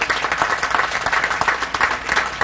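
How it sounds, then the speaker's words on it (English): Audience at a university spring commencement applauding graduates, a steady, loud crackle of many hands clapping in a large hall, with no talk over it. "Give them a big hand."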